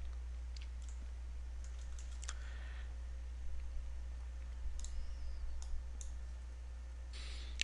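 A computer mouse clicks a handful of times in short, faint, crisp ticks, spaced unevenly over a steady low electrical hum in a quiet room.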